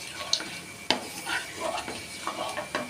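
Cumin seeds fry in hot oil in a pan with a soft sizzle, while a metal spoon clinks and scrapes against the pan in a few sharp knocks, close and fairly quiet.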